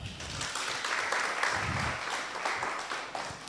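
Audience applause fills a hall at a regional forum on refugee access to labour markets in East Africa: steady, dense clapping that holds level throughout, with no voices over it.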